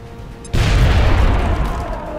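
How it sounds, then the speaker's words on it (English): A grenade detonates in XCOM: Enemy Within, one loud close boom that bursts in suddenly and rolls on as a dense, slowly fading rumble. "Grenade out."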